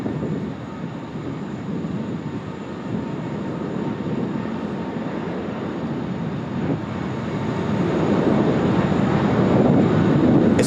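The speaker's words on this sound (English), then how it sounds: "This will be a lovely long takeoff roll here from Emirates, all the way back to Dubai today." An Emirates airliner on its long takeoff roll at Sydney Airport, a steady distant engine roar that builds gradually louder toward the end, heard from a nearby hotel with no talk over it.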